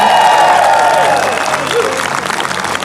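A rally crowd applauds and cheers a speaker, and the dense clapping fills the space around a voice talking into a microphone over it.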